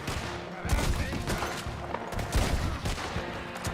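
Shotgun fire in Red Dead Redemption 2, dense overlapping gunshots and booming blasts in a chaotic firefight, loud and continuous over a busy game soundscape.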